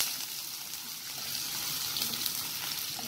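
Chilies sizzle steadily in a hot pan for Chinese-style egg bhurji with garlic, a close, even frying hiss that holds at the same level throughout with no voices.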